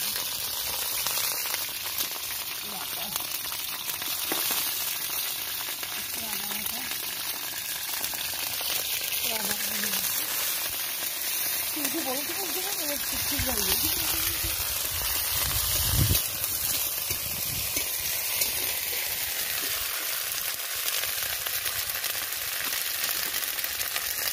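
Green chillies and whole spices sizzle in hot oil in a pan for a light fish curry, a continuous frying hiss with bursts of crackle and spatter, while a person talks over the cooking.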